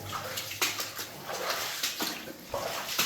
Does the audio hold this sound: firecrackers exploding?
no